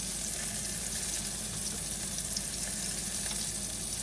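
A cod fillet frying in butter in a pan gives a steady, dense sizzle and crackle, close and continuous throughout with no voices.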